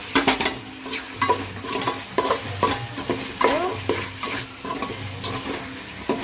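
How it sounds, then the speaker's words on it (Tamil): Tomatoes sauté with ginger and mint in a pan for country chicken biryani. Close, repeated scraping stirs rise and fall over a continuous frying sizzle, and a spoon makes occasional light clinks. "அடுத்தது நம்ம தக்காளி போட்டுக்கலாம்."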